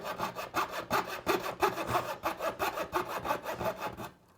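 A handsaw cuts a curve in wood for a floor base in a steady, close back-and-forth rasp of about a dozen even strokes, stopping abruptly at the end with no talk.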